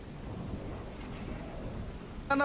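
Steady, dense monsoon rain in Valsad hisses throughout, a constant broadband wash with no pauses, ending in a brief brighter burst of sound.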